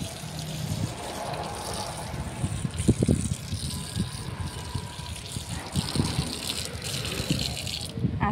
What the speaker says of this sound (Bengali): হাত পা ধুয়ে নেব।